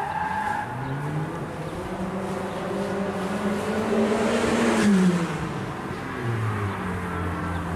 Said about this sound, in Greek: Ακούγονται κόρνες, φρεναρίσματα, επιταχύνσεις